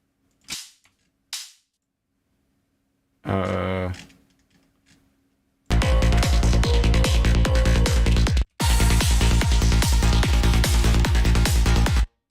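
A few sharp drum hits, then a dense, loud stretch of a full mix with a rapid, steady pattern of punchy snare strikes.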